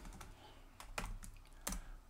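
Typing on a computer keyboard while writing a script in a terminal, a few sharp separate key clicks over a faint background hum.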